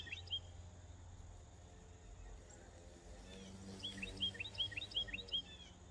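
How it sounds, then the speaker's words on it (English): Bright, charming bird calls chirp in a quick run of repeated short notes, growing busier toward the end, over a soft background hum. "That's a very, very charming sound. I like that a lot."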